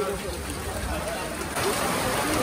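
Rain falls on a busy cattle market in Bangladesh as a steady, fairly soft patter, with people talking over it throughout.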